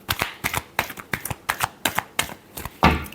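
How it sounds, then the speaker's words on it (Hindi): Tarot cards are shuffled close up in a quick run of about a dozen crisp riffling bursts, evenly spaced, ending with a heavier slap. "Last shuffle."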